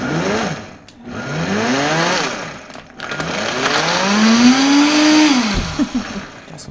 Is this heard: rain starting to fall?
no